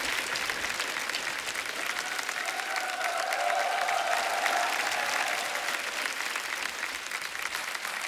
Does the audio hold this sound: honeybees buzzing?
no